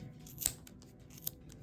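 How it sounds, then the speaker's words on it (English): Scissors snip through wrapped yarn on a pom-pom maker in two quiet, brief cuts in an otherwise hushed room. "I'm going to take my scissors and just cut down the center."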